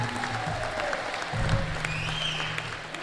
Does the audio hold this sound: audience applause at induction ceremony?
yes